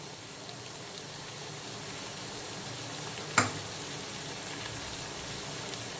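Red and yellow capsicum frying in a pan for mixed fried rice, giving a low, steady sizzle with faint crackle and one brief sharp tap partway through.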